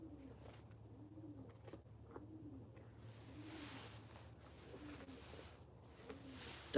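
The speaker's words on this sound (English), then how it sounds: "You hear the birds?" Outdoor birdsong with pigeons or doves cooing in repeated soft phrases over a steady low hum, fairly distant and faint.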